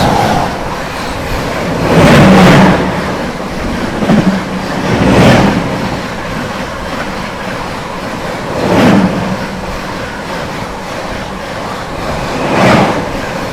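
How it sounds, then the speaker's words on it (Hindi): The Prayagraj Express rushes past on the opposite track in India, a loud rolling rumble with rhythmic clickety-clack bursts from wheel joints recurring every few seconds near the listener. "सामने से भी आ रही है प्रयागराज एक्सप्रेस"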